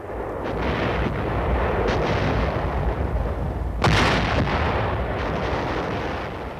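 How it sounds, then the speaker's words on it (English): A U.S. Army artillery barrage pounds on as a continuous loud rumble of guns, with a heavier blast standing out near the middle; the roar stays dense and steady throughout, with no voices. "with the let-up of the barrage"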